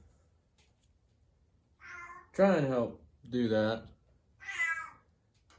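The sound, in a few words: cat meowing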